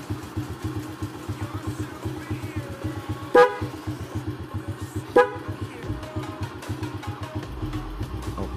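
Two short, loud motorcycle horn blasts, a few seconds apart, sounded through a rewired starter button over the steady putter of the idling engine.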